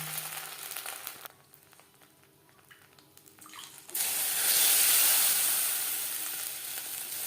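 Chitoi pitha batter poured into a hot pan, a quiet stretch followed by a sudden loud, steady hiss of sizzling that swells and holds to the end.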